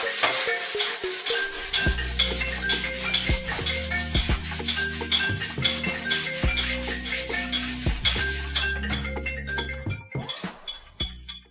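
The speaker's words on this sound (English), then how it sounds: "I'm using a long sanding block and 120 grit sandpaper to reshape this part of the bumper" A long sanding block with 120 grit sandpaper reshaping a fibreglass front bumper, giving fast rhythmic rasping strokes, loud and close, that keep a steady back-and-forth pace before slowing and stopping near the end.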